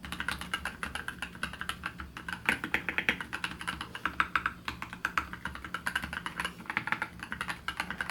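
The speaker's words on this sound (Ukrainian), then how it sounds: "OE 901 оснащена механічними перемикачами Gateron Brown" Rapid, continuous typing clatters on a Lofree OE901 mechanical keyboard fitted with tactile Gateron Brown switches, a close, even patter of soft keystrokes with no voices.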